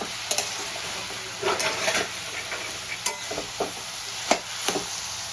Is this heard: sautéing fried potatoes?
yes